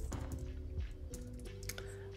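Keystrokes tapping on a computer keyboard, a quick run of light clicks close by over a steady background hum.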